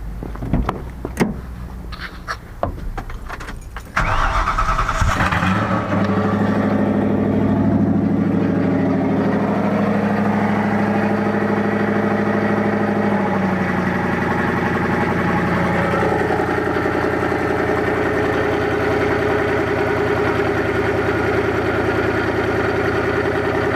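Ford Crown Victoria with a 4.6 SOHC engine and a used turbo: a few clicks and clunks, then the engine starts and settles into a steady, close idle that hums on unbroken to the end; no talk.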